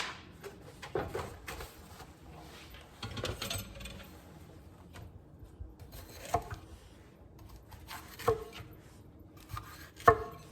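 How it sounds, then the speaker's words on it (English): Bell peppers being chopped by hand on a cutting board, a handful of sharp knife strikes spaced irregularly against a low background of kitchen noise, with no talking. "cut them up a little bit, not a huge amount, put them in a little pot and get them heating"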